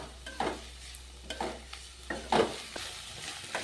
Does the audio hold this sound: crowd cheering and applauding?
no